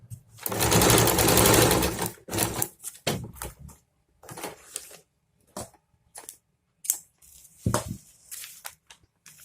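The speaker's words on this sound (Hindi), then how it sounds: "इस तरह से पहले एक साइड इसी तरह से पट्टियों को स्टिच करते हुए हम इसको कंप्लीट कर लेते हैं।" A sewing machine stitches fabric strips onto palazzo pants, running in one long steady burst and then in shorter stop-start runs with clicks and pauses between, close and clear.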